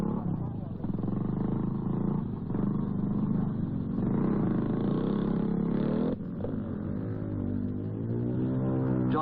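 A Works BSA motorcycle engine in a 1950s scrambling race, a droning motor whose pitch rises and falls as the rider works through a section. It is heard up close.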